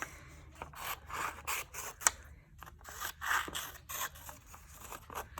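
Scissors snipping through paper book pages in quick repeated cuts, crisp rhythmic rasping strokes close by with brief pauses, no voices.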